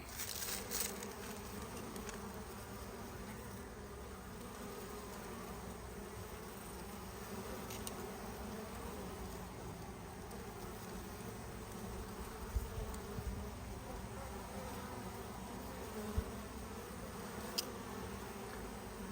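Honey bees buzz steadily around an outdoor hive during a spring inspection, a soft continuous hum with a few brief louder passes close by, with no talking.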